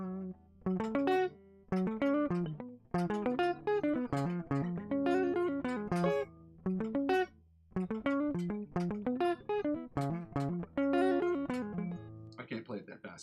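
An electric guitar runs through the OD riff, a quick, continuous line of plucked notes with short gaps, played steadily and up close.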